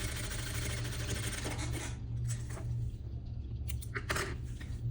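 A sewing machine stitches the fabric of a fashionable suit made for a New Year corporate party, sewn without interlining; its steady mechanical whir runs close and continuous throughout, with brief higher clicks near the end.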